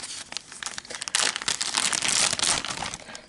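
A large plastic bag, found at a dump, crinkles and rustles as it is handled up close. Crisp, uneven crackling swells louder in the middle, then tapers off.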